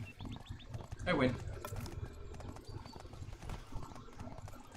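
Horse hooves clip-clopping in a jungle video game race against a goat, a quick close rhythmic patter with a brief whinny-like burst, under a voice.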